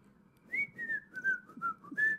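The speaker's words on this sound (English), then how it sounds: "Halfway through the forest, I heard it. The same whistling as every trip." A high, steady whistled tune of several sliding notes carries through a scary campfire story, clear and fairly close, with a soft low murmur underneath.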